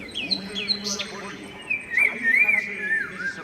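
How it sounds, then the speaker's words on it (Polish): Several birds in the video game Cyberpunk 2077 chirp and trill in bright, twittering bursts, with whistled calls rising and falling, fairly close and clear over a quiet background. "A jak słyszycie, to no dźwięki ptaków tutaj wyraźnie słychać."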